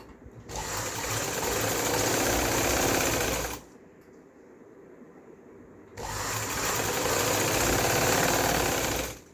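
A sewing machine stitches a sleeve of plain salwar fabric, running in two loud, steady bursts separated by a short pause.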